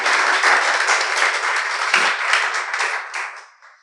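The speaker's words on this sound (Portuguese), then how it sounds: "Você pode aplaudir mais uma vez o Senhor Jesus?" A church congregation breaks into loud, dense applause, a continuous wash of many hands clapping that holds steady and then tapers off at the end.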